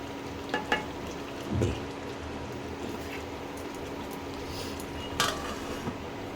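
Lid set onto a pot of simmering shrimp curry with jackfruit seeds, a few light metallic clinks and one brighter clack over a low, steady bubbling sizzle.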